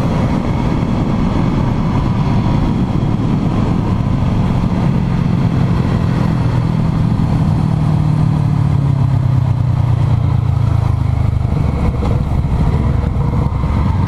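A Honda CB500F motorcycle engine roars steadily while riding, with the pitch dropping as it slows, loud and close amid wind rush.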